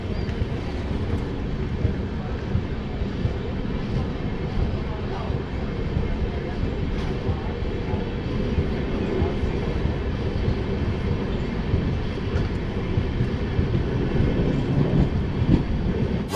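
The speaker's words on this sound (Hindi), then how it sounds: "है ये अपनी आश्रम एक्सप्रेस" Heard from inside, the Ashram Express rolls along with a dense, steady rumble and rattle of wheels and carriages that stays constant throughout, with a voice faintly present in the din.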